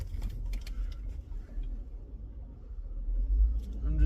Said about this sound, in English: I'm just going to be driving around a little bit.